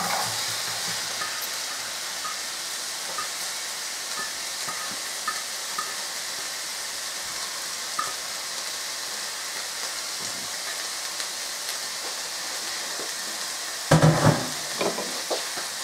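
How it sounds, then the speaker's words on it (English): Three diced onions fry in a pot for a whole chicken and brown lentil curry, giving a steady hiss of sizzling that runs throughout, with a louder burst of stirring and clatter near the end. "now we're going to put in our 3 onions that's diced"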